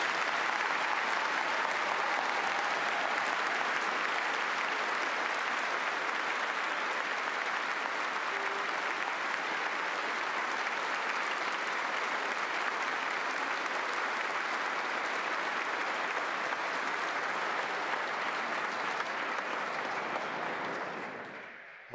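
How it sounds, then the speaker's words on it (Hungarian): A large audience at a university engineering faculty's graduation ceremony applauds together in one sustained, dense ovation that holds steady for about twenty seconds before cutting off abruptly, with no talking over it. "kérem, hogy mindenki vegye le a kesztyűjét, és kapjanak egy közös nagy tapsot"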